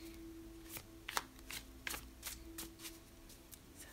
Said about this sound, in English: As I shuffle and cards go flying out.